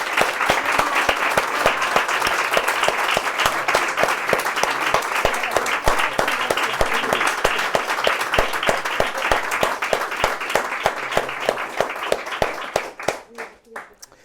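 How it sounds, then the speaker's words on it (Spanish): A live audience at a talk on UFOs breaks into sustained, dense applause that carries on steadily for many seconds before thinning out at the end. "quiero que le mandéis un fuerte saludo en forma de aplauso a la otra mitad del divulgador de misterio, que es María José Fernández."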